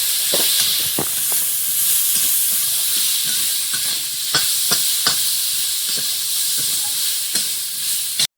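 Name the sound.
sautéing spice masala with a little water in a pan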